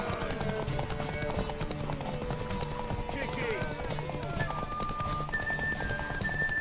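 Horse hooves clip-clopping with a neigh in a fantasy training-yard scene from The Witcher, steady hoofbeats layered with shouted voices, music and other bustle.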